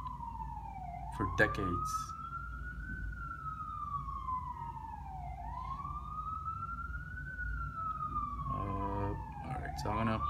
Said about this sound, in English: Can you guys hear the siren?